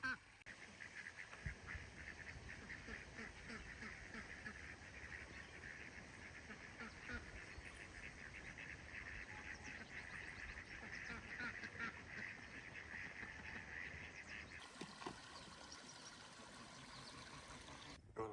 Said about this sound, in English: Or are you scared of the geese?